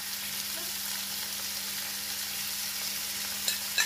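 John Dory fish fillets fry in a pan over fairly high heat, giving a steady, close, even sizzle throughout with a couple of faint utensil taps near the end.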